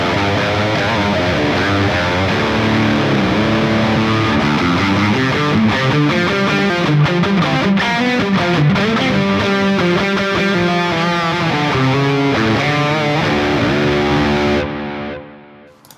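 Heavily distorted electric guitar run through the Neural DSP Archetype Rabea amp-sim plugin, a loud, continuous stretch of sustained chords and riffs that holds steady before cutting off abruptly near the end.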